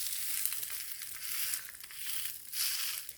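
An egg chapati fries in a hot pan after being flipped, giving a continuous bright sizzle that swells and eases in waves, fairly close and without any talk.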